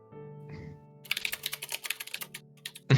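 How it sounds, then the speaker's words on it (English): Clicky computer keyboard typed in a quick, uneven run of sharp keystrokes, close and clear over a low steady hum, ending in a louder clatter. "The satisfying clickety clacks."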